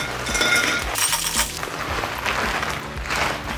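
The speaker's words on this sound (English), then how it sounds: "So we want to get a lot of ice in this mixing glass." Ice cubes clink and rattle against a cocktail mixing glass as it is filled, a continuous close jingle of sharp glassy knocks.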